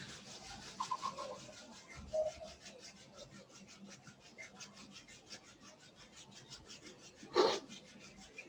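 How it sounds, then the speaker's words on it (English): Hands rubbing together during a guided exercise, a faint soft rasping repeated in a steady rhythm, quiet and close with a brief louder brush near the end. "now let's just rub the hands again"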